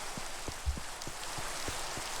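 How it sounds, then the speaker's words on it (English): Rain falls in the Minecraft video game, a steady, soft patter with scattered light drop taps spaced through a continuous wash of rainfall, heard alone at low volume. "it's raining. At least it's raining, not thunderstorming."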